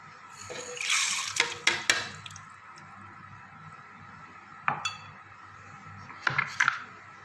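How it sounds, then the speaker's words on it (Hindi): Water poured into a container for a restaurant-style summer fruit drink, with faint clinks and taps of sugar going in, several brief splashy bursts over a quiet background hiss. "पहले पानी डाल के, पानी में मैं चीनी डाल लेती हूँ।"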